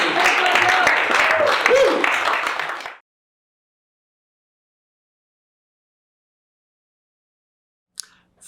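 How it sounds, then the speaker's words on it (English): An audience applauds a volunteer at a magic show, with loud, dense clapping and cheering for about three seconds, then a sudden cut to silence and a faint click near the end. "Give Chantal a huge round of applause."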